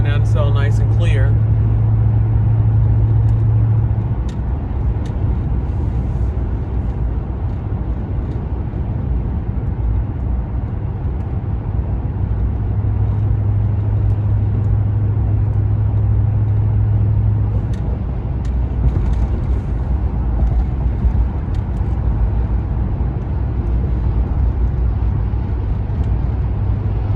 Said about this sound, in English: You're a passenger in the truck with me while I'm going to work.